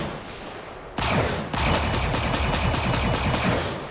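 Spaceship guns in the Star Citizen space game fire in rapid, dense bursts; after a lighter opening second the shots build into a loud, continuous barrage with one brief break.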